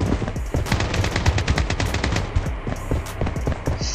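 Rapid, loud bursts of automatic gunfire crackle in close, dense volleys with small pauses, from the shooter game Project: Bloodstrike.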